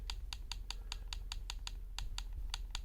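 Rapid, crisp clicks of a game controller's D-pad being pressed, about fifteen sharp presses in a fairly steady rhythm, close and clear over a quiet low background hum.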